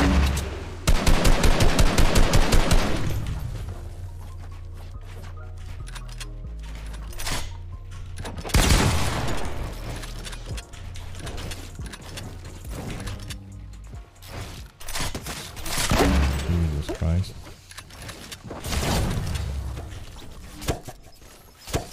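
Automatic weapon fire in the Fortnite video game opens with a loud rapid burst, followed by scattered shots and bursts over roughly twenty seconds with no talking.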